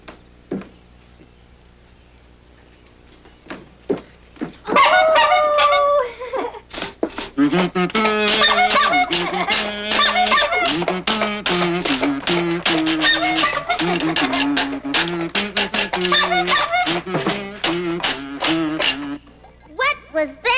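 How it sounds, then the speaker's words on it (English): Several instruments from a one-man band start up after a quiet opening: scattered clicks and taps, then jangling, rattling percussion with tuneful notes played loud and dense, going on for about fifteen seconds before it stops. "That was the sound of a one-man band."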